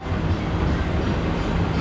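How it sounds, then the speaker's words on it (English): The train to Rafiki's Planet Watch at Animal Kingdom rolls past close by with a dense, steady rumble and rattle of rail cars, loud and continuous throughout the short stretch. "is where the train that goes to Rafiki's Planet Watch is gonna come right by."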